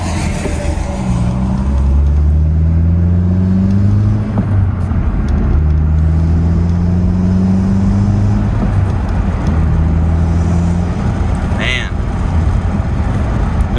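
A Honda Si's engine revs repeatedly with rev hang, the rpm rising and holding in long steady droning sweeps with brief dips between, loud and close, while a person talks over it.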